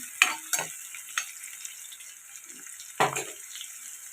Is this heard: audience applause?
no